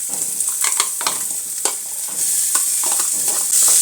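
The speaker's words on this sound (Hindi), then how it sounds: "अब इसमें डाल दूंगी प्याज और लहसुन बारीक चॉप कर रखे हैं वो" Finely chopped onion and garlic sizzle in a pan, broken by a series of sharp scraping and clacking stirs, with the frying growing louder and steadier toward the end.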